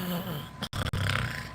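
A voice imitates a loud snore in one short, rough, throaty burst that breaks off briefly partway through.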